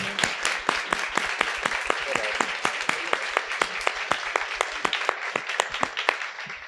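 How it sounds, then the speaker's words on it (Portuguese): Audience at an event launching an innovation and research centre and a mental health network gives applause, with sharp, evenly spaced claps standing out over a softer crowd clatter, steady and close, and some voices underneath. "eu queria pedir uma salva de palmas"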